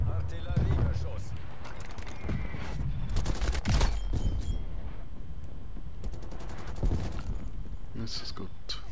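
Artillery barrage in Call of Duty Black Ops Cold War, a dense run of booming blasts and gunfire crackle over about nine seconds, with heavier impacts midway, under speech and in-game radio chatter.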